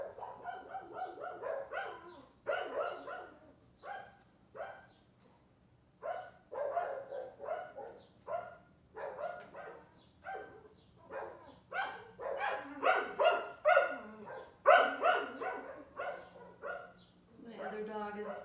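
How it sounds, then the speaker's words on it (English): A dog outside barks repeatedly in uneven bursts, muffled and somewhat distant, running under a person speaking calmly indoors during a gentle yoga session. "My other dog is going out of his mind outside."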